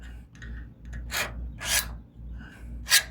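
A tool scratches marks into a steel C-notch reinforcement plate on a 1967-72 Chevrolet C10 frame. There are a few short, separate rasping strokes, close and crisp, with quiet gaps between them.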